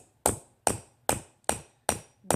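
Five hard, sharp smacks struck at an even pace on a bottle cap rose craft project, each a loud close impact with a short ringing tail, with no voices.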